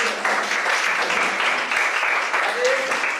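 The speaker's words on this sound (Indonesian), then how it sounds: "Ya, tepuk tangan dulu." Clapping from a class of students in a physical education lesson, a brisk burst of applause at close range with some voices mixed in.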